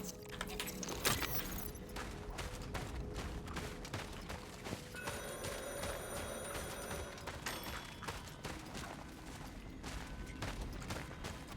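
A telephone rings repeatedly in the horror video game Cronos: The New Dawn, steady tonal rings over a dense, noisy game soundscape with other clattering effects.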